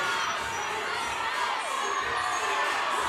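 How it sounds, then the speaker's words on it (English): A crowd at the Burn Boot Camp Athlete Games cheers wildly in a continuous roar of shouts and whoops, loud and sustained for the whole stretch. "you heard the crowd go wild"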